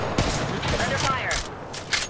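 Gunfire in an Apex Legends ranked arena match, a few sharp shots and blasts mixed with game effects, partly overlapping a voice.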